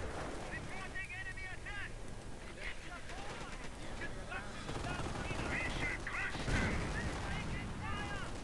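Machine-gun bursts from a strategy war game, rapid rattling volleys over a busy battlefield mix of explosions and engine noise, with commentary talk running throughout.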